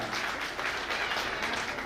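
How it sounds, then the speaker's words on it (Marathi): Audience applause at a Marathi sangeet celebration, steady dense clapping filling the whole stretch at a moderate, even level with no voices standing out. "टाळ्या वाजवा जरा जोरदार"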